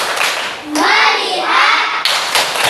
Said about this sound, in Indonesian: Ya, kita akan tepuk fokus.